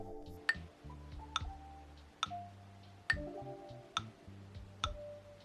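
Rhythm in 3/4 time with six quavers per bar, played as quiet pitched notes with sharp ticking accents falling at regular intervals, soft and sparse throughout.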